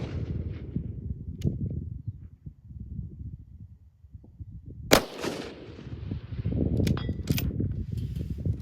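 A single sharp rifle shot from a .308 Sig Cross cracks at close range, followed by a brief echo against steady outdoor wind rumble.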